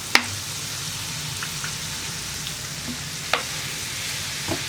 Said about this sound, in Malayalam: ഇനി കാശ്മീരി ചില്ലി പൗഡർ ഒന്ന് കുക്കായി വരട്ടെ